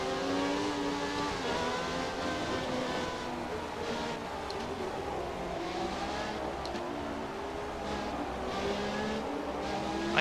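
McLaren MP4/6 Formula 1 car in a racing video game at Interlagos, its high-pitched engine whining steadily and loud throughout, rising and falling through gears with a faint tyre squeal now and then.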